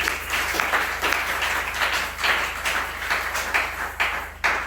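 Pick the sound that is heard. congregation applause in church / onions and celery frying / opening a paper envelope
congregation applause in church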